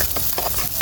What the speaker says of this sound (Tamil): இப்போ பார்த்தீங்கடா மகன் வெங்காயம் அழகாய் வதங்கி வந்தது